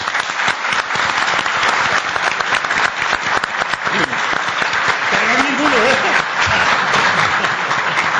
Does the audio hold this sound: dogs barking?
no